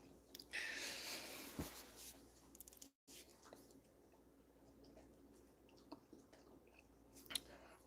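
A dog chews on a treat close by indoors, with soft wet smacking and crunchy bites in short irregular bursts, quiet and faint, alongside occasional low background sounds.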